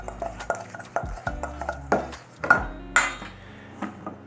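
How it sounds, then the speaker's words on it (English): Pork being mixed with potato starch and salt in a bowl, a run of close clinks and knocks from a utensil against the dish at an uneven rhythm, with no talk. "Give this a good mix."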